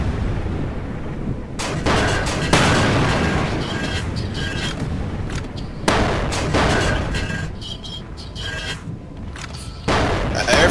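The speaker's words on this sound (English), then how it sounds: "They're firing now." Ship weapons fire during large-ship combat in Space Engineers, with repeated heavy booming shots and bursts of gunfire every couple of seconds over a constant rumbling mechanical background.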